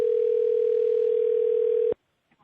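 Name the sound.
telephone ringing tone while calling someone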